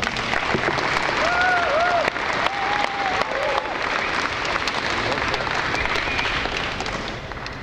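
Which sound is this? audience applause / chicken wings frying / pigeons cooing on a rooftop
audience applause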